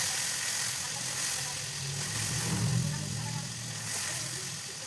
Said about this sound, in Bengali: এবার টমেটোগুলো লাল লাল করে ভেজে নিয়ে মশলাটা দিয়ে দেবো।